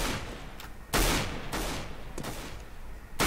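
Friendly-fire gunshots in CS:GO, a handful of sharp, loud cracks spaced irregularly over a few seconds, standing alone without talk.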